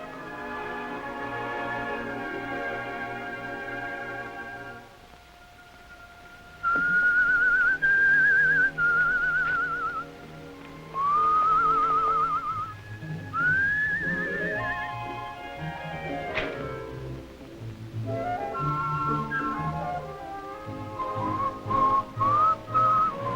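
A person whistles a bright, wavering melody in a 1945 film scene, the tune rising and falling in clear phrases over an orchestral music background, loud and close.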